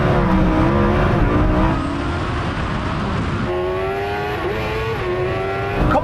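Lamborghini Huracan Turbo and Kawasaki H2R accelerating side by side in a drag race, a loud sustained engine roar with rising pitch through gear changes, heard close and continuous.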